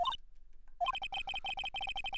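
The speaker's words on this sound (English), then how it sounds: "The phone plays and it rings." A cell phone rings in the Phoenix Wright video game, a quick bright electronic tone repeating in rapid regular pulses after a brief opening chirp and short pause, clear and alone.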